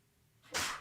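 A single short sneeze bursts out after a moment of near silence, quiet and close, with a sharp onset and a brief breathy tail.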